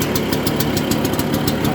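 A Lambretta LD150 scooter idles with the choke on, its small engine ticking in a fast, steady, slightly uneven rhythm, loud and close throughout.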